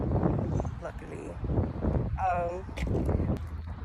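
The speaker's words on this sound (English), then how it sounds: "it's another windy day" Wind gusting outdoors on a windy day at a historic house, a steady rumbling buffet on the microphone under a voice talking throughout.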